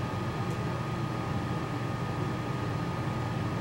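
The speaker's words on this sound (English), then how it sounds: "Sorry if you can hear my fan in the background." An electric fan runs steadily in a room, a constant low whooshing hum with no break across the whole stretch, moderately quiet and alone.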